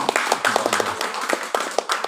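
A gathering of people claps hands at a community association event, the claps sharp and fairly close, uneven and loosely rhythmic rather than a smooth wash.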